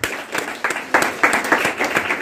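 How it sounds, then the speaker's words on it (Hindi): A short burst of audience clapping in an indoor meeting hall, individual claps audible in a loose, uneven rhythm at moderate loudness. "एक बार जोरदार तालियों सर के लिए।"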